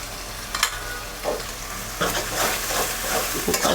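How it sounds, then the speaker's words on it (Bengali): Whole spices fry in hot oil for a goat liver curry: mace, nutmeg, star anise and caraway. A close, steady crackling sizzle runs throughout, broken by stirring scrapes. "গরম মশলা যা আছে জৈত্রিক, জায়ফল, স্টার-অ্যানিস, তারপর শাহি জিরা সব এখানে দিয়ে দিয়েছি।"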